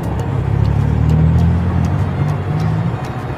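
Road traffic on a street under roadworks, with cars passing close by in a loud, continuous engine hum and tire rumble that swells and eases slightly.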